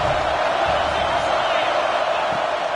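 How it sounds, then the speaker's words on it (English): Home crowd at a football game roaring in a loud, continuous wash of cheering and noise that never lets up, with an announcer talking over it. "Man, this crowd really affecting the football game."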